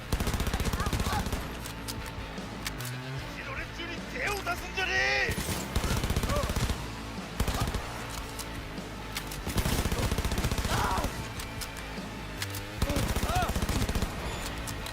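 Rapid bursts of gunfire from a weapon in the video game Cyberpunk 2077 repeat loudly across the scene over dense, busy game sound.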